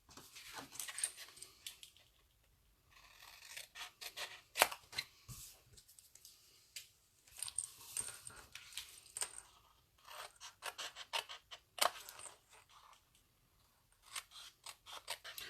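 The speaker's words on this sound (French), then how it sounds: "on coupe la petite languette de 1/2 pouce et on vient biseauter sur chaque côté" Scissors snip through a small half-inch cardboard tab and bevel each side of it while making a twisted double-opening box, giving quiet, close, irregular clusters of crisp cuts with short pauses between them.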